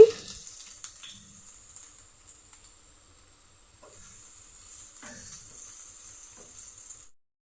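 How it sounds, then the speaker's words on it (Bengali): Chopped onion frying in a little oil for a stuffed pointed gourd and small shrimp dish, a steady soft sizzle with faint stirring clicks, close and continuous without talk. "পেঁয়াজটা আমার ভাজা ভাজা হয়ে গেছে"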